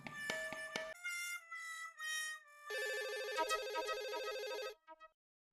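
An electronic phone ringtone plays a bright, melodic tune in short bursts, then cuts off; nearby and fairly quiet, with no talking.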